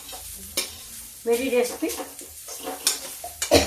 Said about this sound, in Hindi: इसको हम छिटका होने तक भूनेंगे, जब बिल्कुल से छिटक जाएगा।